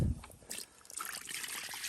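Water trickles and splashes as it is poured out for a goat on a snowy farm during winter chores, a short steady stream heard up close.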